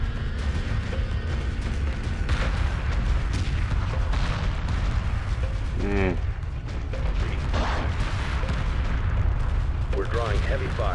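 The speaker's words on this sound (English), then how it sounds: "We're drawing heavy fire." Heavy weapons fire aimed at a ship in the space strategy game Homeworld Remastered, a dense continuous rumble of booming shots and mechanical noise, loud throughout, with brief voice-like chirps mixed in.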